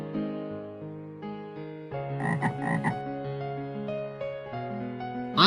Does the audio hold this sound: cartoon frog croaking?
yes